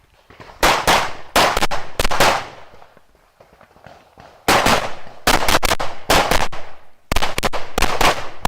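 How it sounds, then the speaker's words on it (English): Rapid handgun shots crack out in two tight strings at an IPSC shooting competition, sharp loud bursts in quick clusters separated by a short pause, heard alone at close range. "John is shooting, Aaron on deck, and"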